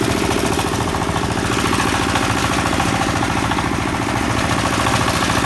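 A heavy Forte 8 hp walk-behind tractor hauls a load of firewood along a road, its engine chugging loudly and continuously close by with a fast rhythmic knock and no voices.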